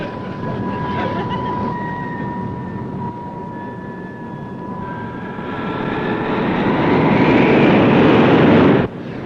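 A heavy engine drones and strains, rising in loudness toward the end before cutting off abruptly, with faint voices in the background.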